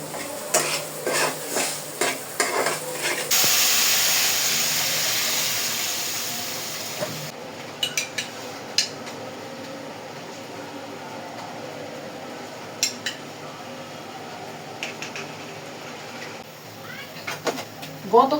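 Pots and dishes clatter while eggs boil on a home stove, with sharp metallic knocks and scrapes, a steady steam-like hiss in the middle stretch, and occasional voices nearby.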